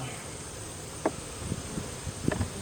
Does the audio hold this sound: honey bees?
yes